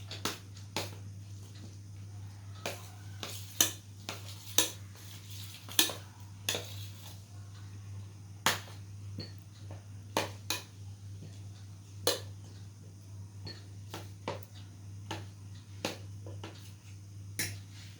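Ingredients mixed in a bowl for a no-cook kindergarten dish, a steady series of sharp utensil clicks and taps against the bowl at an uneven rhythm over a constant low hum, close and moderately loud, no talking.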